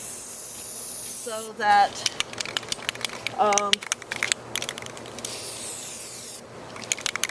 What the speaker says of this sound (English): I'm spraying it evenly